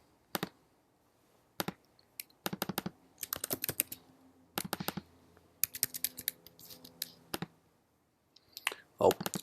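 A password is tapped out on a computer keyboard in quiet, irregular bursts of crisp key clicks, separated by short pauses, close and fairly soft.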